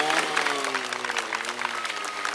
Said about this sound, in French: Joli Polo, ça mérite des applaudissements, merci beaucoup pour lui.